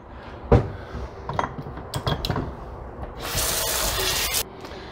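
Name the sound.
washing meat grinder parts in sink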